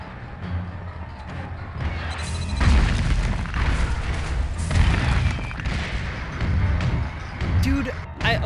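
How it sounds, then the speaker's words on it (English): A loud explosion booms during a boss fight in the Psychonauts video game, a heavy blast followed by a dense roar of crashing, rumbling effects that stays loud for several seconds. "Wow, that was a loud explosion."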